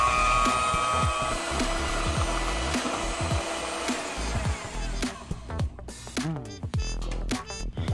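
An electric mixer whisks 500 grams of egg whites for meringue cookies, a loud, steady motor whir that later turns choppier with clattering bursts near the end.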